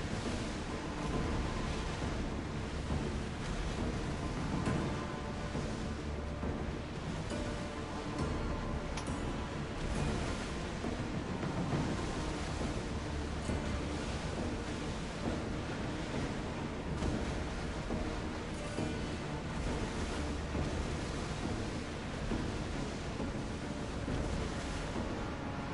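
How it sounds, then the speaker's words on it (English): Ocean waves in Assassin's Creed Odyssey give a continuous broad roar of surf and sea wash, steady and moderately loud throughout with no voices over it. "These waves are making it take forever to get over there."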